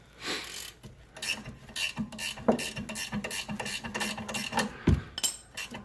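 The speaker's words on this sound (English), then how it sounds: "we're going to use a second Allen wrench and tap it with an open palm" An Allen wrench struck with an open palm to loosen a tight bolt during a rear brake job on a 2014 Ford Focus, a series of close, irregular metallic clicks and knocks with ratcheting clatter, no talking.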